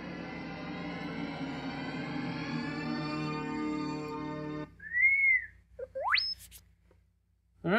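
Droid beeps and warbling chirps from speakers in a 3D printed R2-D2 replica: a buzzy, harmonic-rich tone, then short rising and falling whistles, clear and close with no talk.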